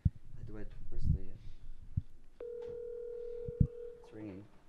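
A phone call rings out as a steady electronic ringback tone held for over a second, heard between bursts of nearby conversation and a few sharp knocks.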